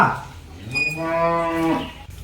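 A cow moos once, a long, loud, drawn-out low call close by, rising and then falling before it fades away.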